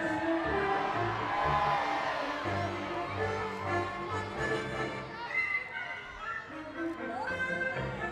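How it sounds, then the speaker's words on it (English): A large outdoor crowd at a Christmas lights switch-on in Oldham cheers and shouts for Wallace and Gromit, a dense, sustained roar of voices with whoops rising and falling throughout. "Let's hear a big cheer for Wallace and Gromit"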